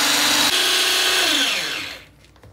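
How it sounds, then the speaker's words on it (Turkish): Electric mixer or blender whirring loudly while blending hummus, a steady high whine that drops in pitch and winds down over about two seconds before cutting to near silence. "Şimdi artık mikseri çalıştırma vakti"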